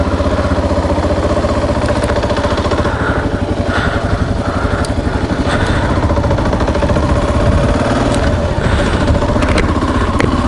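Kawasaki KLR650 motorcycle idling after starting without choke, a steady loud single-cylinder thump with a fast even pulse and some mechanical ticking, close and continuous throughout.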